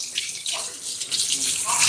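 Water runs steadily from a tap as it warms up, a broad continuous hiss and splash close by, with faint voices in the background.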